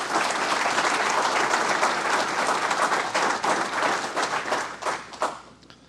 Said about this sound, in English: Please recognize Ryan Cook with a round of applause.